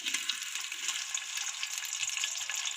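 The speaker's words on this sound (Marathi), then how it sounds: "आता तुम्ही पाहू शकता, आपलं तेल आता गरम होत आलं आहे। यामध्ये आता मी कांदा घालून घेते" Onion hits hot oil for vegetable pulao, producing a dense, even, fairly faint crackling sizzle with no voices.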